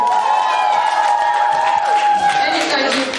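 Audience applause and cheering on a televised children's quiz show, a continuous loud wash of clapping and crowd noise with voices mixed in throughout.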